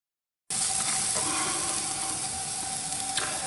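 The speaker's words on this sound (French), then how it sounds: "Alors l'oignon, on va juste le faire suer" Onion sweating in a pan, a steady broadband sizzle and hiss that starts abruptly and holds at an even level throughout, with no voices.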